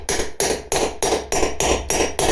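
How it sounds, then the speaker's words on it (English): A hammer drives a socket against a trailer wheel bearing race, seeding it into the hub. Seven sharp metallic taps land in an even rhythm, close and distinct, with no talking. "you can use a hammer and then just tap all around the outside"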